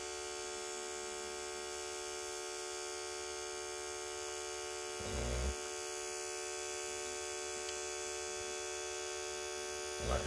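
Cordless professional hair clippers running idle without cutting, a faint steady electric hum and buzz held throughout, with a couple of brief handling bumps.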